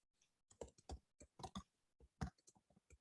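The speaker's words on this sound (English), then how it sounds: "And I'm just typing it on there" Typing on a computer keyboard during an online committee meeting, with irregular bursts of close, crisp key clicks and short pauses between runs of keystrokes, no talking.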